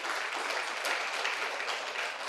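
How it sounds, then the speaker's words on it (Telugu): Audience applauding together in honor of the Buddha at a Buddha Pournami meditation gathering, a steady dense wash of clapping filling the whole moment without voices. "బుద్ధుడికి ఒకసారి గట్టిగా క్లాప్స్ కొట్టుకుందాం."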